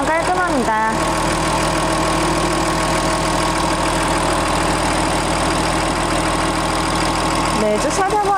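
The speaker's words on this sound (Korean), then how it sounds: "엔진 소리 일정하네요" A Porsche Macan 3.0 S diesel SUV idles with its engine bay open, a steady, even hum with a constant low drone throughout, while a person talks over it at the start and end.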